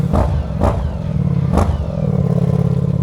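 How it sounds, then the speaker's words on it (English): A Ducati Diavel V4 motorcycle exhaust blips sharply three times, each rev a loud bark over a deep, rumbling idle that carries on steadily afterward. "You want to hear the exhaust, so do I. Wow, sounds so good."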